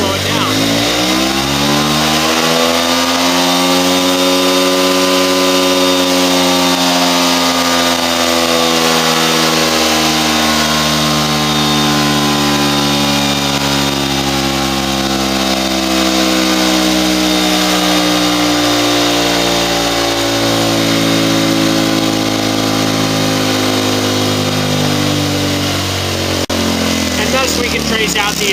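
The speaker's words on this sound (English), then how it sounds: "I'm going to open the throttle, increasing the speed." A four-stroke motorcycle engine on a dynamometer runs loud and continuous with the throttle open, its pitch climbing steadily then easing as load is applied, a sustained close-up drone.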